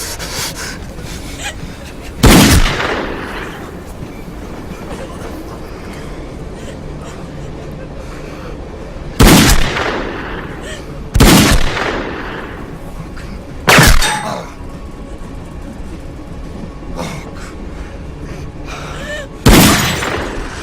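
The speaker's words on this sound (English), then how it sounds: "But then they have their lay down shootout." Gunshots from a movie shootout scene, five sharp loud bangs spread irregularly across the stretch, under ongoing talk from people watching.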